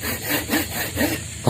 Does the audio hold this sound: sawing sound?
yes